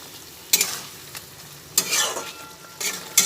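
A spoon repeatedly scrapes and tosses fried pointed gourd in a pan, giving sharp bursts of stirring over a soft background sizzle. The strokes are close and come about five times at irregular intervals, with no voices.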